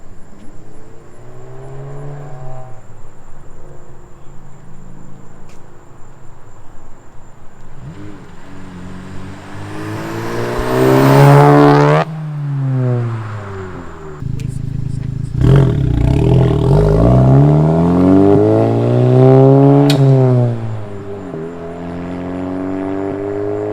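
A VW MK7.5 GTI fitted with an AWE Track catback exhaust accelerates past, its deep exhaust note rising and falling in pitch as it approaches, passes close by and recedes, followed by a second pass.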